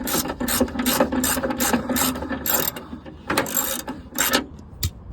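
Ratchet clicks away steadily at bolts holding the bumper on a rusty old wagon, bursts of rapid pawl ticking come in quick runs with brief pauses between, close and fairly loud.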